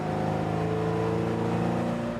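A loud car engine with a 750 double pumper carburetor held at high revs, a steady rough drone with a throaty pulsing note running without a break.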